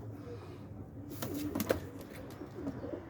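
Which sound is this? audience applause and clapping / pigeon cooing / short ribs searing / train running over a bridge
pigeon cooing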